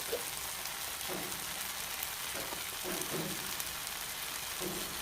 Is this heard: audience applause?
no